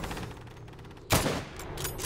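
A single loud gunshot bursts out midway through a WWII tactical shooter video game, sharp and close, after a quieter stretch of low ambient rumble and faint rhythmic rattling, with a decaying tail.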